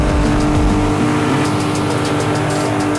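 Car engine in the mobile racing game Daydream Police Escape on a highway, a loud steady drone with revving throughout, no talk.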